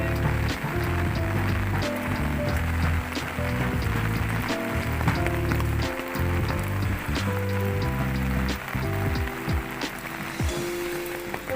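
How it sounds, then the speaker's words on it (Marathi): Rain falls on a walk to a village temple in the Konkan, a dense steady patter with frequent close drops tapping on a surface such as an umbrella, over a continuous low rumble. "पाऊस पडतोय जरा"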